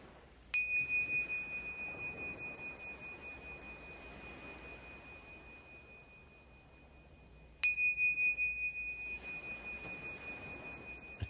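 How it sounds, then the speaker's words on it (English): A bell rings twice during guided breathwork, each a clear bright strike followed by a long, pure sustained tone that decays slowly against a quiet background, with no speaking. "returning home to the sound of the bell."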